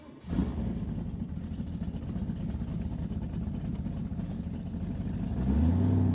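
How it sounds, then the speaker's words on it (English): A 1966 Shelby Cobra's V8 engine drives along, giving a steady low, throaty drone that swells louder toward the end as the car accelerates, with no talking over it. "I just love the sound of the V8 on these."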